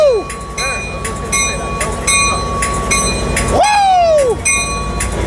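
A passenger train led by locomotive 451 departs Oceanside, with loud close rumble, rolling clatter and a rising-falling whistle or horn, while people shout excitedly nearby.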